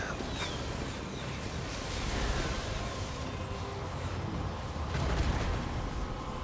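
Distant, steady battlefield gunfire and artillery rumble from a Total War: Warhammer 2 fight as Black Knights take fire, a continuous washed-out din with occasional sharper cracks swelling louder toward the end.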